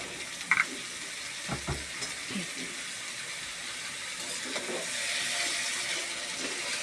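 Drumstick stalks and dried shrimp frying in a pan, a steady hiss of sizzling with a few stirring clanks and scrapes near the start, growing slightly louder, no talking.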